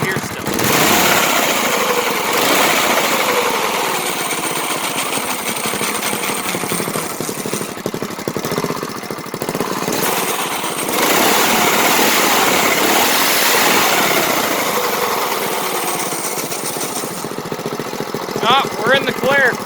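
A three-seater go-kart's small engine runs close by after an exhaust leak repair, giving a loud, rattly, high-pitched buzzing idle that surges and dips, with a voice speaking over it at times.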